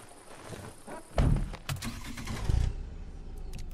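Car engine starting in the video game Sniper Ghost Warrior 3: a brief crank and turnover that rises into a low, rough idle. It sounds close and moderately loud, with a door-like clunk near the start, and nobody talks over it.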